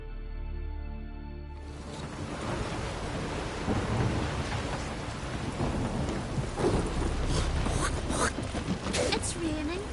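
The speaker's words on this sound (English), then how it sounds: "It's raining." Rain and thunder in The Witcher 3 on PS5: a steady rush of rainfall with deep rolling thunder rises after a quiet opening and continues throughout, while characters talk over it.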